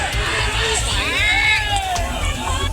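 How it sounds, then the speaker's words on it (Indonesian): Panicked residents shout at a house fire as it spreads quickly: a loud, continuous mass of raised, overlapping voices with rising and falling cries, heard alone. "Teriakan warga panik melihat api begitu cepat membesar"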